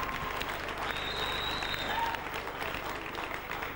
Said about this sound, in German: Nochmal einen richtig tollen Applaus für die Cheerleader-Gruppe der Saison 98